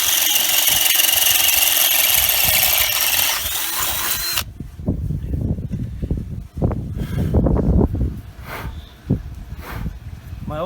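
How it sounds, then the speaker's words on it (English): A power drill whines loudly and steadily for about four seconds while drilling a hole for a pool cover slider, then stops and gives way to scraping, rubbing and clattering handling noises. "I'm going to drill the hole."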